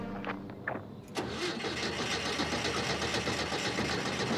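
A carbureted car engine cranks and sputters a few times, then catches and runs with a steady, rough idle at close range.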